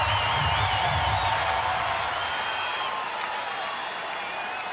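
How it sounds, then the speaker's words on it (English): A baseball crowd hoots, hollers and claps at a Tigers versus Rangers game, a dense, steady roar of cheering and applause that swells and fades slightly over several seconds. "The crowd starting to make some hooting and hollering noises going on here."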